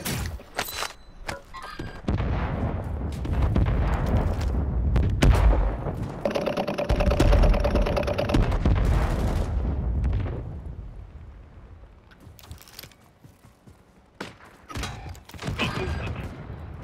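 Heavy gunfire and explosions in the video game Call of Duty Warzone on Ashika Island, with loud sharp shots and bursts, a sustained roar of blasts in the middle, then scattered shots tapering off.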